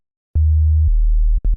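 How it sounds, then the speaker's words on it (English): Deep sine wave synth bass in a production, clean low sustained notes that shift in pitch, then two short staccato hits, loud and alone with no voices. "Sine wave, obviously."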